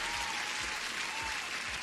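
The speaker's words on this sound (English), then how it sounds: "Applause for you as well, and everyone who is here." A recorded applause effect with dense clapping and light crowd noise plays during a live day-trading session, steady and full throughout without pause.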